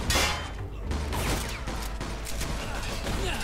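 Machine gun fire in the video game Mafia II: rapid bursts of crackling gunfire with mechanical clatter, fairly quiet and dense, running through the whole moment without talk.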